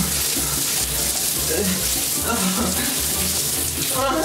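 Water runs steadily from a tap while someone waits for it to turn hot, a constant close splashing rush that goes on without a break.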